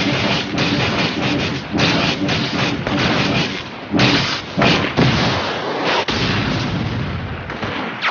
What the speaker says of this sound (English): Hit him with a grenade!